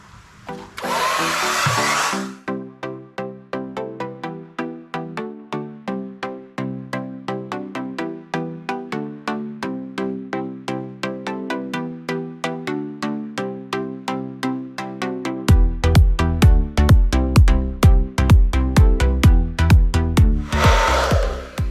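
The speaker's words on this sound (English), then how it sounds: "just like I've done with the other panels, just going to get it at the hairdryer" A hair dryer blows in two short bursts while sealing the edges of vehicle wrap panels, one burst at the start and one at the end, with steady plucked music playing between them.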